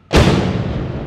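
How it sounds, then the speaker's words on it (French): A single loud explosion from a rocket strike in Kabul, Afghanistan, bursting suddenly with a heavy broadband boom that lingers in a long rumbling decay; it is one of two rockets landing at a distance. "malgré l'explosion au loin de deux roquettes"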